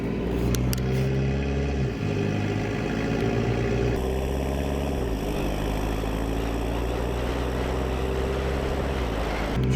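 A Chevrolet Colorado ZR2 diesel pickup with a hood stack roars steadily and loudly up close, its pitch climbing through gear shifts as the truck accelerates.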